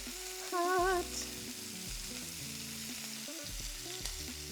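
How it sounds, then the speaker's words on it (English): Steady sizzling of shrimp frying in a hot pan, continuous and close, with a brief tonal squeal near the start. "So I'm gonna get the second batch in here and pan frying"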